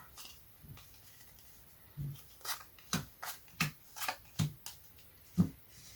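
Cards slapped down one after another in a quick, uneven series of soft taps close by, with a brief pause before the last few.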